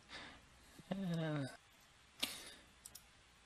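Computer mouse clicks in a quiet room, a few sharp close taps scattered between a brief stretch of speech.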